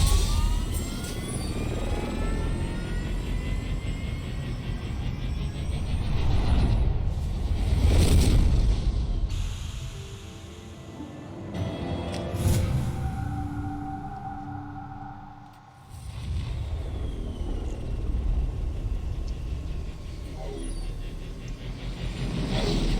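The Hammerhead hover vehicle from the Mass Effect video game drones with a loud, sustained engine roar and whine that swells and dips over more than twenty seconds, with a deep rumbling low end and no talking.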